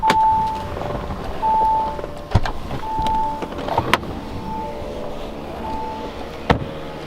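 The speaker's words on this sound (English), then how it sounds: "It opens, and you have a power sunshade to dim things down." Power sunshade and panoramic roof of a 2017 Audi Q7 Premium Plus motoring open, a steady electric whir with short tonal bursts and a few clicks and thumps, close and moderately loud with no talk.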